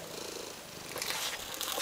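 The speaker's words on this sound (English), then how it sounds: "Hey, cat." A cat purrs close by, a soft continuous rumbling purr that grows slightly stronger toward the end, with no talking over it.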